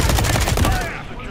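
Rapid automatic turret machine gun fire in the Call of Duty video game, a loud burst of closely spaced shots that cuts off after about a second.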